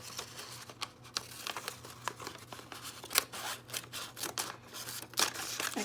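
Scissors snip steadily through excess folded paper, the sharp cuts coming in quick irregular succession, close and fairly quiet, with light paper rustling between them.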